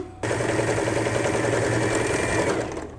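A sewing machine runs a quick burst of stitching on a fabric apron, doing a backstitch, with a rapid, even mechanical chatter close by for about two and a half seconds before stopping.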